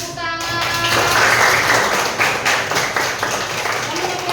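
A classroom of students claps together, a few seconds of brisk, fairly close clapping that rises quickly and tapers slightly, with some voices beneath.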